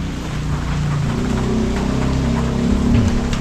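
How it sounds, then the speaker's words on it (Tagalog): Steady afternoon rain falls all around outdoors, a dense, even hiss of drops with no pauses and no voices. "Ilang araw nang umuulan ng hapon."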